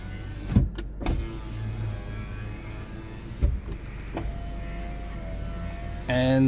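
The power window motor of a ten-year-old Honda City GM6 whirs as the glass travels up and down, a steady whine punctuated by a few sharp clunks at the stops, close and moderately loud.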